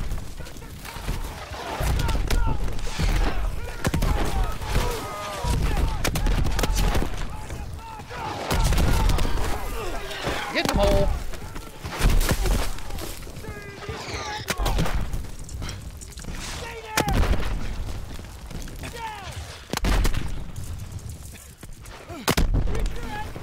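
Battle of the Bulge combat in Call of Duty WWII, with heavy artillery explosions bursting into the forest trees amid rattling gunfire, loud repeated booms and crashes throughout, with voices shouting over the barrage.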